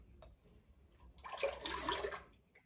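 Liquid splashes and gurgles as it is poured into a cooking pot in a home kitchen, a short, fairly close burst that swells and then tapers off.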